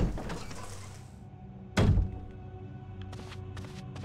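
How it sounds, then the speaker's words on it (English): A door opens in Resident Evil 1 HD, a single heavy thunk standing out against a quiet, low ambient drone, followed by a few faint taps. "Let's go check through both these doors."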